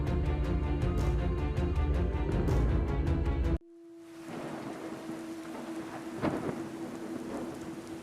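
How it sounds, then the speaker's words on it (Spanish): Heavy rain pours steadily as a sound effect, with a deep thunder rumble and crack rolling in partway through, loud and continuous without talk. "Llovía intensamente aquella noche"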